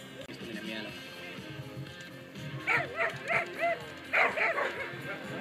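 A dog barks in short repeated bursts during a MondioRing guarding exercise, holding a decoy in place outdoors; the barks come in a rhythmic series over steady background noise with someone talking.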